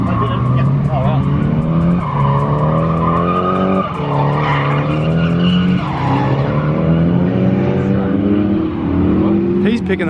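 A turbocharged Nissan 180SX drifts at a drift school track, its engine revving loudly and close while the tires squeal and skid continuously, with people talking over it.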